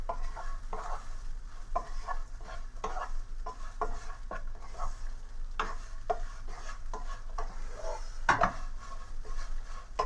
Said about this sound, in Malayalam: നമുക്ക് നന്നായിട്ട് ഇളക്കാം.